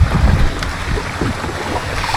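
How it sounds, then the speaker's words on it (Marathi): A kayak moves across calm backwater at Tapola in Maharashtra, heard as a close, steady rush of water and wind noise with low paddle and hull sloshes and no speech. "निघालो भर दुपारी त्या शांत पाण्यावर ॲडव्हेंचर एक्सपिरियन्स करायला कायाकिंगसाठी"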